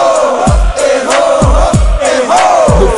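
Large football crowd in a stadium roaring and chanting in rising waves, with rhythmic surges and thumping beats, loud and continuous, acclaiming a player.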